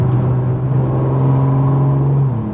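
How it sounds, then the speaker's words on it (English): A BMW 340i with rear-wheel drive, in Sport Plus mode on a road, gives a loud, steady engine drone with low rumble and whir throughout, and a slight shift in pitch near the end. "This car's so loud, it draws so much attention."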